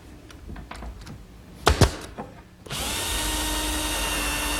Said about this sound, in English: these holes that I'm drilling through the corner blocks will be to secure the top